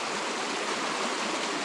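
Creek water rushing steadily over stones in New Zealand bush, a continuous broadband flow with no other sounds.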